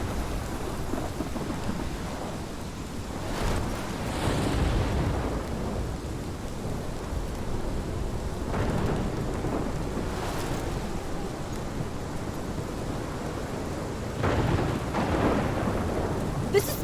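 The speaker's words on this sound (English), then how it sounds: "This is my storm" A thunderstorm in the Life Is Strange video game: steady heavy rain pours throughout while several deep rolls of thunder rumble up and fade, with no one speaking.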